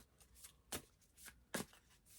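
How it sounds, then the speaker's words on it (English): Tarot cards are shuffled up close and quietly, with several short riffling bursts at uneven intervals and two sharper snaps standing out. "I'm gonna shuffle the cards"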